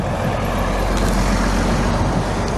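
A heavy vehicle rumbles past on a road, a loud continuous low roar of engine and tyres, with no voices.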